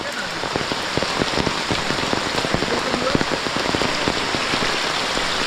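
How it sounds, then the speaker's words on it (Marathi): Light drizzling rain patters on a village road, a close, steady hiss dotted with many small drops and no talk over it. "पाऊस एकदम रिमझिम रिमझिम आहे"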